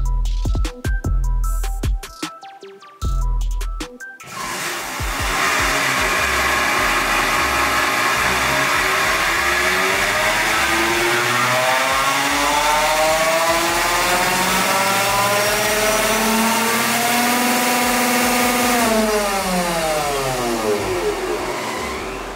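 Tesla Model 3 electric car on a dynamometer during a pull, a loud steady whine and roar sweeping upward in pitch for nearly twenty seconds after a few brief clunks at the start, then tapering off near the end.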